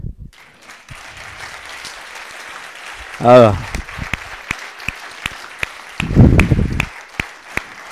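Scattered, uneven claps from an audience after a children's Christmas show with singing and dancing, moderately close, punctuated by a brief vocal exclamation and a short burst of crowd noise.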